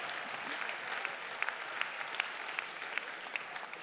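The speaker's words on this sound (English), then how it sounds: "Give her a round of applause." Audience applause at a mentalist stage show, a steady wash of many hands clapping with a few sharper individual claps, moderately loud and continuous with no talking.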